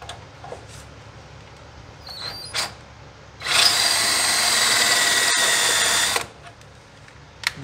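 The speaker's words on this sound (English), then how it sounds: "So instead of using a punch, I'm going to use this drill bit to mark the center," A power drill with a large bit whirs for about two and a half seconds, marking the center of a hole on a scratch-built rack and pinion for a 1940 Chevy coupe. Quieter workshop clatter comes before and after.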